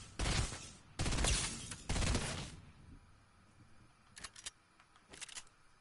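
Gunfire in the video game Fortnite: three loud, broad bursts of shots in the first half, followed by two fainter, more distant volleys of shots later on.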